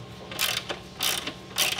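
A ratchet undoing bolts on a Tesla Model 3, with three close, crisp bursts of rapid clicking separated by short pauses.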